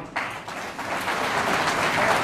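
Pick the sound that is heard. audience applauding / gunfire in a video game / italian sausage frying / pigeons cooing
audience applauding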